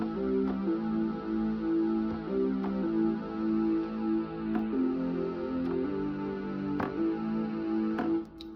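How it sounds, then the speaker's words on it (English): Low synth line stepping through a simple seven-note sequence of sustained tones, steady and alone with faint clicks, no talking. "the other part of that goes with that lead is that low synth in the background"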